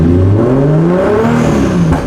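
Car engine runs after a complete drivetrain swap, pulling loudly and steadily with rising and falling revs as the car limps slowly around a parking lot, close by and alone.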